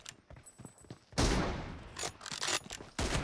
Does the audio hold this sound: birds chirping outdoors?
no